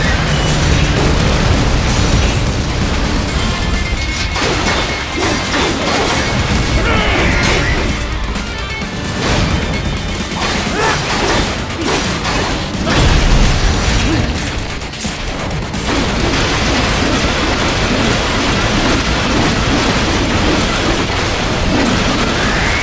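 Missile blasts and crashing impacts from the action game Metal Gear Rising: Revengeance, loud and dense, layered over continuous combat noise, heavy booms and metallic mechanisms throughout with no talk.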